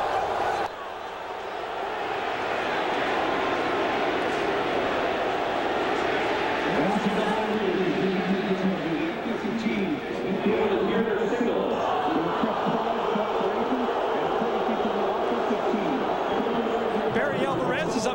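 Steady roar of a stadium crowd at a 1993 Michigan at Wisconsin college football game, a dense wash of many voices holding an even level throughout, with murmured talk blended into the noise.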